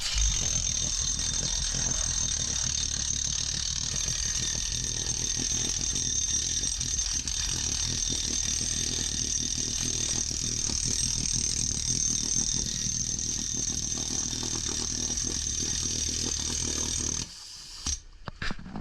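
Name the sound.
pneumatic hammer drill drilling underwater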